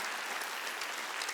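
Worshippers at a Korean church's Wednesday service break into brief, dense clapping. The short burst of applause is even and busy, with no talk over it.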